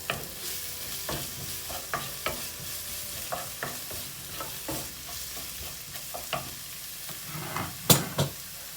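Potatoes with spices and black pepper frying in a pan, a steady close sizzle broken by repeated scraping stirs and spoon taps at an irregular rhythm.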